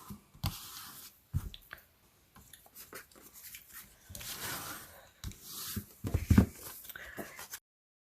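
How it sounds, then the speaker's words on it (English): A bone folder rubs against the inside of a paper wedding card, giving short, intermittent scraping and rubbing strokes that are close and fairly quiet, with small taps and handling noises between them. "I am going to take my bone folder and I'm going to rub it on the inside of the card"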